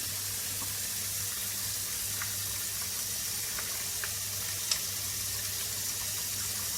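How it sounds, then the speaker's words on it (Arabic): Water runs steadily into a container of Dettol water where baby bottle brushes soak in a home kitchen, a constant close hissing stream with a few faint clinks and no talking. "هنا دي انا حاطه الفرش بتاعت الببرونات في ميه بديتول."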